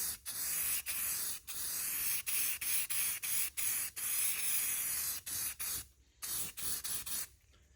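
Spray gun applying gloss paint to an LB7 Duramax truck frame: repeated hissing bursts of varied length separated by short pauses, close and steady, with no speech.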